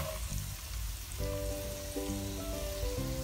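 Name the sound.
onion sizzling as it is added to frying garlic and ginger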